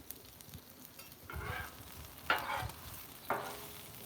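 Eggs with green onions and tomatoes cook on a Blackstone flat-top griddle, a quiet soft sizzle punctuated by a few louder scraping stirs of a spatula, no speech.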